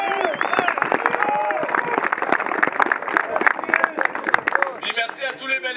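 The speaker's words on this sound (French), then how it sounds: "Lui aussi mérite une bonne poignée d'applaudissements" Audience at a Battlefield airsoft event briefing clapping together, a dense burst of applause that carries on for several seconds before tapering off as a voice comes back in.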